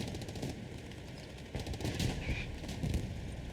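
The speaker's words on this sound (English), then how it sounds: "Artillery also landing in here close." Distant combat from a night match in the World War II game Hell Let Loose, with artillery landing amid a steady stream of muffled explosions and rattling gunfire, all fairly faint.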